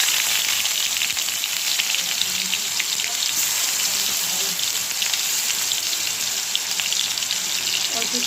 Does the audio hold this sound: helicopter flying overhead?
no